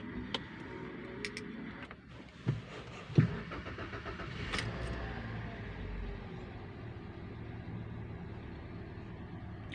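A 2023 Toyota Avanza with a check engine light cranks and fires up, a short starter whirr followed by a steady, low, quiet idle heard from close by.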